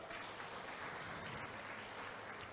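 Audience applause fills a hall in a steady, even wash of clapping, fairly quiet and distant, with no voices over it.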